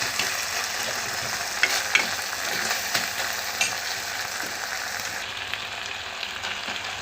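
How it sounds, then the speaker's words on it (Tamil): Ingredients for tomato soup, spiced with cinnamon, cloves and cardamom, sauté in a pan, giving a continuous close sizzle with light scraping taps from stirring, no voices. "இந்த மாதிரி நல்லா வதங்கணும்."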